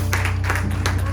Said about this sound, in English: Give God a big hand clap of praise.